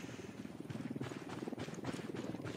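A helicopter in the video game Ghost Recon Wildlands thuds with a continuous rotor chop at a middle distance. The sound is fairly faint and stays steady throughout.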